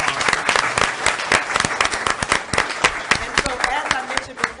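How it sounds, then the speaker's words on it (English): People at a City of Pahokee regular commission meeting give a round of applause, a lively, uneven burst of many hands clapping with voices mixed in underneath. "Let's give all of them a round of applause."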